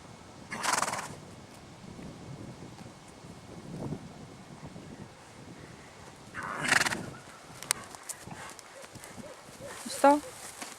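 A horse whinnies out on a woodland walk, with a loud neigh near the start and another midway, soft hoof and rustling movement between, and wind buffeting the microphone.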